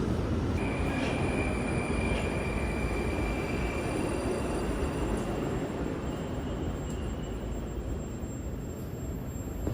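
A steady, loud rumble of a Moscow Metro subway train running along the track, with faint high wheel squeals above it and no voices.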